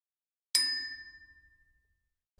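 A small toy gong struck once, captured on an iPhone: a bright metallic strike with a sustained ringing tone that fades out over about a second and a half, recorded close and alone.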